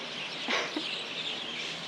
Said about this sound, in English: Can you hear that? The birds again.